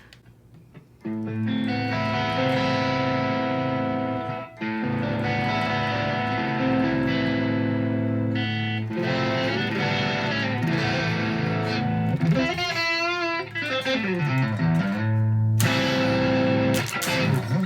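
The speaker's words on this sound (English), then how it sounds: "you can turn the pedal off, the overdrive pedal off, and we'll cut the effects off as well" An electric guitar with its overdrive pedal and effects switched off plays sustained chords and bends through an amplifier with a fairly clean, slightly gritty tone, loud and continuous.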